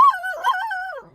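A pet dog giving a single short vocalization, a close, clear whining yelp that rises and wavers briefly before trailing off, with no talking.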